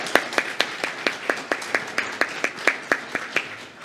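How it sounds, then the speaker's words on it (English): A congregation claps for a group of men who stood to be recognized. The claps come as a slow, even rhythm of distinct sharp beats, roughly five per second or fewer, fairly close and moderately loud. "we recognize them by giving them a hand of applause"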